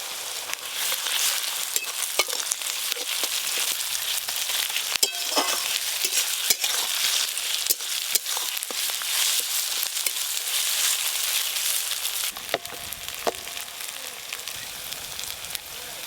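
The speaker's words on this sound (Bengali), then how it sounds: "মশলা ভাজা হচ্ছে তো" Constant crackling sizzle of spices with ginger-garlic paste frying in a hot pan for chicken curry, punctuated by sharp clicks and scrapes of stirring, close and steady throughout.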